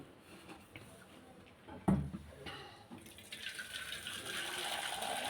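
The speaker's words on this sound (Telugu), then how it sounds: "ఇప్పుడు దీంట్లో ఉన్న వాటర్ అంతా వేరే దాంట్లోకి తీసుకోవాలి" Cooking water poured off boiled lentils into another vessel, a soft steady stream of liquid building after a brief clatter and continuing to the end.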